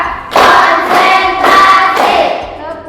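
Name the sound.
class clapping hands in rhythm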